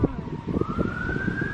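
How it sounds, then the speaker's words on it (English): Emergency vehicle siren with a steady, slowly rising wail, heard at moderate distance through the whole stretch over a low rumble of traffic. "The sirens."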